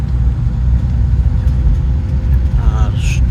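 Steady low engine drone inside a moving sleeper bus on a highway, loud and continuous, with a brief faint voice near the end.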